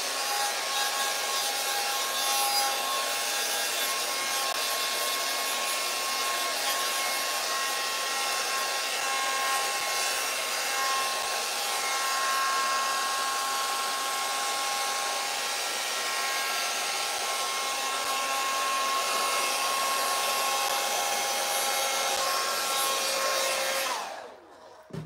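Hair dryer blowing steadily on alcohol inks painted on a canvas, a close, loud continuous whoosh lasting nearly the whole stretch before cutting off abruptly at the end.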